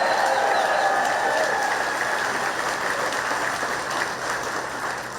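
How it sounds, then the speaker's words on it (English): Rally crowd in Michigan applauding for a Senate candidate, a dense sustained wash of clapping at fairly close range that slowly tapers, with faint cheers inside it. "let's give a round of applause for Mike Rogers"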